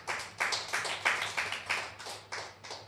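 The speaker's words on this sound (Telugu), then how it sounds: "గట్టిగా చప్పట్లు కొట్టండి" A congregation at a Sunday church worship service claps in a steady rhythmic beat of about eight sharp claps, moderately loud and close, with no talking over it.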